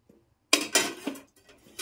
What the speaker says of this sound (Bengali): এবার কড়াই বসালাম, বেগুনটাকে ভেজে নেব